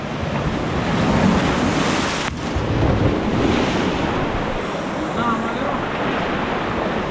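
Ocean waves from a tropical storm in Jamaica roll and splash in a constant loud wash, with gusty wind buffeting the microphone.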